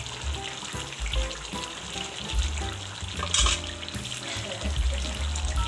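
Cut chillies sizzling in a chicken karahi, a steady hiss of frying up close with a low rumbling bed underneath and a brief brighter burst midway, no voices.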